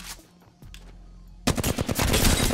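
Automatic gunfire from an Apex Legends match: after a quiet stretch with a faint thump, a dense, loud burst of rapid machine-gun shots erupts and continues to the end, close and punchy.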